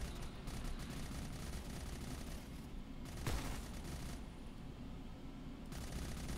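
Distant, muffled gunfire and rumbling battle effects looping in the menu of the game Hellbreach: Vegas, a steady low roar with a slightly sharper burst partway through, no speech.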